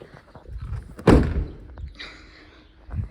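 A single loud, close slam of a Toyota Tacoma Z71 pickup door that tends not to shut, one heavy broadband thud followed by a brief rattle and faint shuffling.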